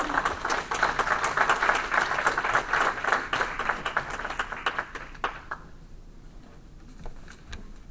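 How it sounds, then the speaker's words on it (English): A crowd at the 2018 interfaith solidarity march in Los Angeles gives a full round of applause, with steady clapping that tapers off toward the end into a few lingering claps. "one more round of applause for that beautiful thought"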